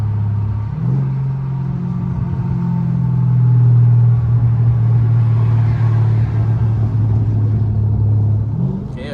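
A car accelerates in a GTA roleplay driving game, giving a loud, steady low engine drone that holds for several seconds, rises and swells in the middle, and then drops away near the end.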